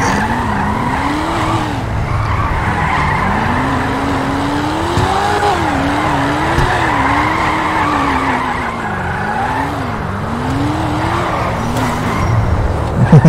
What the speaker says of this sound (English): Definitely sounds like an American V8, not an Italian V12